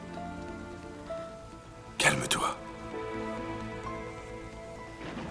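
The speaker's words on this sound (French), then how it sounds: "Exactement la même pluie qui tombait." Heavy rain patters steadily on surfaces in a stormy scene from a French-dubbed Indian drama, a continuous hiss running beneath a woman's brief spoken line and a sharp burst of noise.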